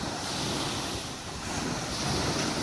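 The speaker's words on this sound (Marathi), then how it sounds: "सांडव्यावरनं आता पाणी देखील वाहू लागलेलं पाहायला मिळतंय।" Water pouring over the spillway of a full dam on a flooded river produces a steady, loud, broadband roar like surf, continuous throughout with wind buffeting the microphone and no voices.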